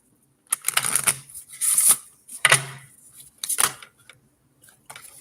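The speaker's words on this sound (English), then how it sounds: "Let me do a little shuffle." Tarot cards are being shuffled by hand in quick, papery bursts of riffling and sliding, several separate rounds with short pauses between them, close and fairly quiet with no talking.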